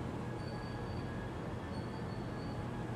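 Pasundan New Generation passenger train, a modified carriage, riding on rails, heard as a steady broadband rumble with faint high squeal tones, continuous and close throughout.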